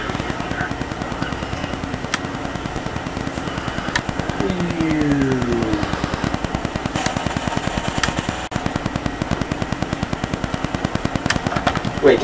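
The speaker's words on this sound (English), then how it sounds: "23mm cannons" 23mm aircraft cannons fire in War Thunder in a continuous rapid rhythmic stream of loud, close shots over an engine drone, with a few sharper bangs scattered through.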